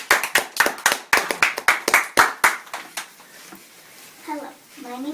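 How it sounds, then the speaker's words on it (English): A small group claps for a young girl performer at a memorial celebration of life; the claps come as a scattered, uneven run for about three seconds and then stop, leaving a voice speaking briefly. "Give her a nice round of applause."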